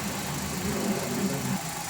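A Toyota Avanza engine idles after an oil change and flushing, giving a steady, fairly quiet low hum with a faint even vibration and no voices.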